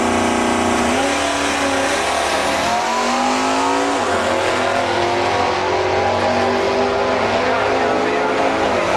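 A drag racing car with a strong engine accelerates hard down the strip, its loud, continuous roar rising steadily in pitch, with a crowd or announcer faintly present underneath.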